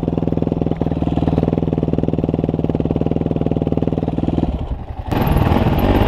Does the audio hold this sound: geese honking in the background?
no